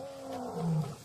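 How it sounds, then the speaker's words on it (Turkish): A single lion roars low and rumbling in the wild of Botswana, fairly faint and distant, one sustained call swelling briefly then fading. "Bu kükreme ayrılma zamanının geldiğini gösteriyor."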